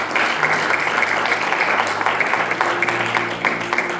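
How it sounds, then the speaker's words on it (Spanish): A church congregation applauds, steady crowded clapping with a faint sustained tone from music underneath, continuing throughout. "denle un aplauso a Dios"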